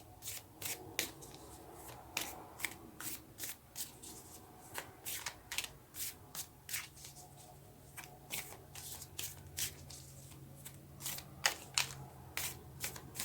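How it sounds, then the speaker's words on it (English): Tarot cards being shuffled by hand, a steady run of quick papery riffles and soft slaps repeating through the whole stretch, close and fairly quiet with no talk. "Okay, let's get some more cards."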